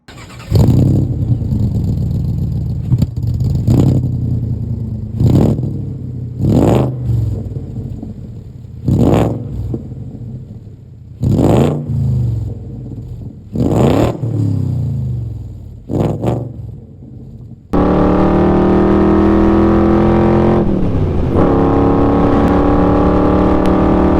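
A Backdraft Racing RT4B roadster with a 5.0 Coyote V8 is driven hard. Loud, close engine roars rise and fall through repeated rev-and-shift bursts, then settle into a sustained heavy drone at steady speed.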